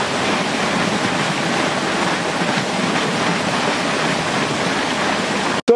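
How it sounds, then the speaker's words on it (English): Water rushes steadily through a mill race from a dam toward a water wheel that generates electricity, a continuous close roar with no break until a brief drop right at the end. "there is the mill race that brings the water in from our dam back there."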